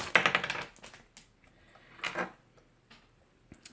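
Plastic packaging crinkles while Re-Ment Pokémon figures are opened, heard as a few close, crisp crackling bursts with brief clicks between quiet pauses.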